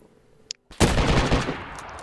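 A single loud gunshot cracks in the video game DayZ Rearmed after a near-silent moment, followed by a sharp echoing tail that decays over about a second.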